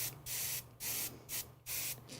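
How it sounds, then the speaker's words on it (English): Airbrush spraying paint onto a miniature model of a Saim-Hann Hornet, heard as four steady hissing bursts, each about a third to half a second long, separated by short pauses, over a faint low hum. "I'm just spraying"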